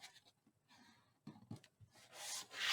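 Paper is burnished into the corners of a handmade craft book box with soft, intermittent rubbing strokes, quiet and close, ending in a slightly louder scraping pass.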